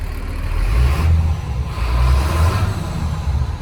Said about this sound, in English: You get that good turbo spool.